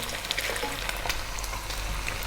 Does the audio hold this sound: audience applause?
no